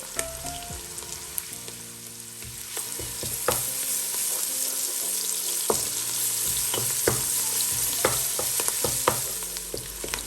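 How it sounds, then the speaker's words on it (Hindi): Garlic ginger paste sautés with onions in a pan, a close, continuous sizzle broken by scraping and clinking as the mixture is stirred with a spoon, and no talking. "लहसुन अदरक का पेस्ट भी सौते हो गया।"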